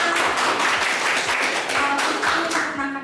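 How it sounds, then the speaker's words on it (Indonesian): An audience gives steady, continuous applause at an academic teaching presentation, a dense patter of hand claps holding even loudness for a few seconds before starting to fade. "Luar biasa, tepuk tangan."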